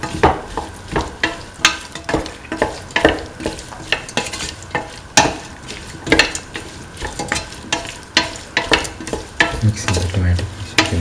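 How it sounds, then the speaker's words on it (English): A spoon stirs beef and green peas stew with tomato pieces and green chili in a pot, scraping in a steady repeating rhythm over a soft, continuous sizzle, close and clear. "Mix in the tomato pieces and the green chili."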